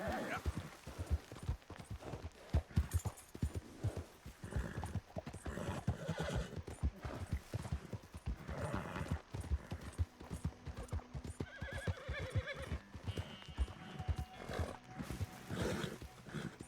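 In the video game Red Dead Redemption 2, a horse gallops with rapid, steady hoofbeats and neighs at intervals, fairly close, with a voice talking over parts of it.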